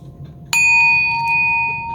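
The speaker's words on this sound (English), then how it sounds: "we're going to ring a bell." A single bell struck once, ringing out with a clear sustained tone and bright overtones that hold steadily and slowly fade, heard alone over a faint low background hum.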